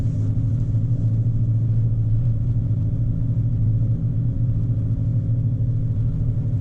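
A 2020 VW Jetta GLI sports sedan pulls away from a forest preserve, its engine a steady, close low rumble and drone from inside the car, holding an even level without a sharp rev.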